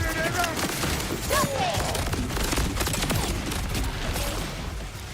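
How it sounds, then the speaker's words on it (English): In the Borderlands video game, a gun fires a dense, continuous volley of shots mixed with rocket blasts, loud and rapid throughout with speech partly audible beneath the gunfire. "The fact that every fourth shot is a rocket."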